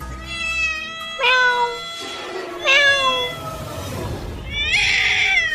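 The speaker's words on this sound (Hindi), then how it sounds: "वो दरवाजे पर खड़ी होकर म्याऊं म्याऊं करने लगती है।" A cat meows three times in clear, drawn-out cries, close and loud with pauses between, followed by a higher, strained meow at the end, used as a sound effect in a horror story.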